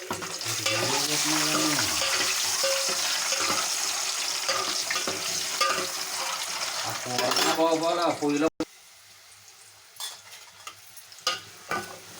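Onions fry in oil in a pan with a loud, dense sizzle and stirring scrapes for about eight seconds, then quieter stretches with faint clatter and short knocks.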